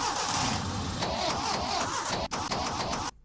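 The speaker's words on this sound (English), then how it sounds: "Oh, you have car engine." A car engine sound effect from the Bismark bs-16i app gives a loud, continuous engine roar with a brief dip near the end before it stops suddenly.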